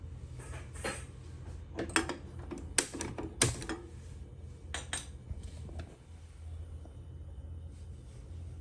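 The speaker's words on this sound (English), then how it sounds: "Now we'll cover the cooker and put it on the gas." Metal clanks and clatters as a lid is set on a milk cooker and placed on a gas stove, several sharp knocks over a low rumble.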